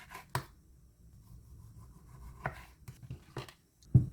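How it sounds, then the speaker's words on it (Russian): A knife slices a tomato into rings on a cutting board: a few sparse, close, crisp cuts with quiet pauses between them and no talking. "а помидор нарезала кольцами."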